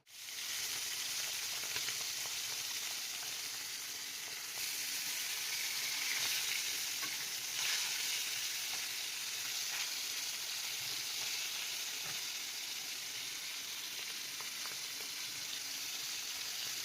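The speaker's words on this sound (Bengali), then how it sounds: "মাছ ভাজা চলছে" Pieces of fish fry in hot oil in a home kitchen pan, giving a steady, dense sizzle with a constant hiss, close and moderately quiet, unbroken throughout with no talking.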